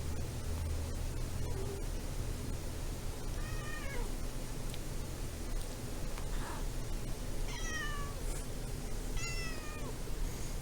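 A cat meows repeatedly, several short rising-falling cries spread over the stretch, close by over a steady noisy hiss.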